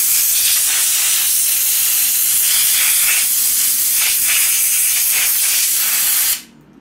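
Compressed air blasts dust out of a Sprint Filter P08 F1-85 air filter in a loud, steady hiss with slight pulsing surges, then cuts off abruptly near the end.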